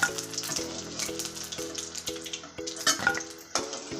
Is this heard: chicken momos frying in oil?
yes